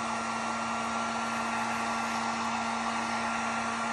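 A heat gun blows hot air over epoxy on a charcuterie board, a steady close broadband whoosh with a constant low motor hum throughout.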